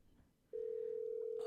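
A phone in GTA Online makes a short soft noise, then a steady electronic dialing tone starts and holds loud and alone to the end, with a brighter burst just before it stops.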